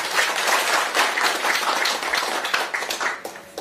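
Audience applause opening a Korean public media reform debate forum, a crowd clapping steadily and briskly, close and moderately loud, with individual claps audible and a slight fade toward the end.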